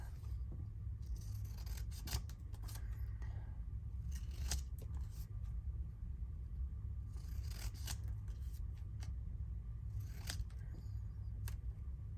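Scissors snip through scrapbook paper for a pocket craft, several quick crisp cuts spread across the stretch, close and clear over a low steady room hum, with no talking.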